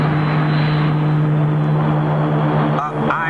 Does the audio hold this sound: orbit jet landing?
yes